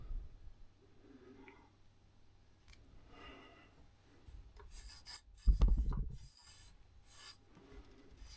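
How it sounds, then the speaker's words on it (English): A cloth or finger rubs dirt off a part of a Bambu Lab A1 3D printer, giving soft, quiet scraping strokes with one louder rasping swipe midway, close up and without speech. "a quick little wipe"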